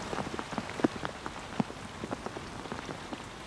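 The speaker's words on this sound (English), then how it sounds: "The rain starts to fall." Rain falling on a reef anchorage during a storm at sea, with scattered individual drops pattering irregularly over a soft, steady hiss, fairly quiet.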